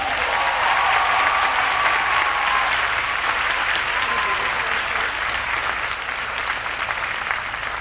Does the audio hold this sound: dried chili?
no